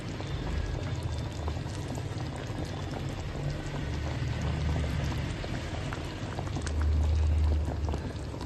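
Chicken curry with fresh cream simmers in a pot, a steady soft bubbling and popping that runs evenly throughout at low level, with no voices.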